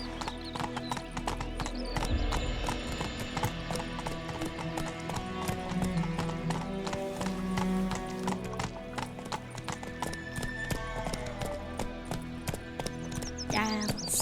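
Rhythmic clip-clop of a horse's hooves in The Witcher 3 video game, a steady close beat running throughout with a brief whinny and faint background music and voice.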